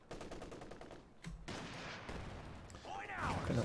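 MG34 machine gun fire and other battle sounds in the strategy game Company of Heroes 2, a dense mix of rattling gunfire and explosions under a commentator's voice.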